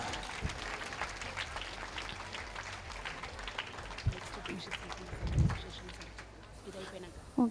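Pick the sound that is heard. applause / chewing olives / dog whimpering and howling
applause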